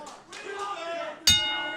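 A sharp, bright strike of a wrestling ring bell rings out near the end and sustains with a metallic ring over the crowd noise and a commentator's voice.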